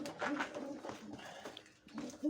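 Homing pigeons coo quietly in a garage, low gurgling calls repeating near the microphone amid faint shuffling and quiet background sounds.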